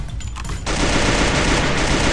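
A loud, continuous burst of rapid automatic gunfire in Garena Free Fire, kicking in after a brief quieter moment and running steadily to the end, with no talking.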